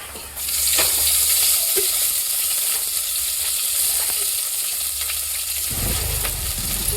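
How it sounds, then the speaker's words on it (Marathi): Loud, steady sizzling of onion frying in hot oil in a pot, a constant crackling hiss with a few faint clinks of stirring. "हा कांदा टाकला पातेल्यामध्ये. आता तेल टाकते."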